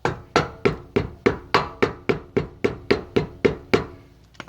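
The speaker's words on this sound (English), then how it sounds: "now you can get a block of wood or mallet hammer" A mallet taps steadily on a boat trailer wheel bearing, seating it, about a dozen sharp evenly spaced knocks, close and fairly loud, with no talking.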